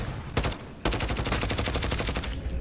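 Rapid gunfire rattles out in dense bursts, one short volley, a tiny gap, then a long sustained string of shots, loud and close.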